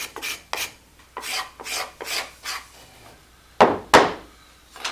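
A hand tool scrapes across wood during hand carving in a rhythmic series of rasping strokes, about eight in all, close and crisp, with the last two strokes louder.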